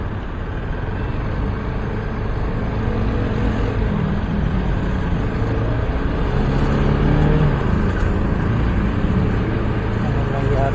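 Road traffic rumbles around a car stuck in a jam near Marikina, a continuous loud drone of engines and passing vehicles throughout, with talk over it.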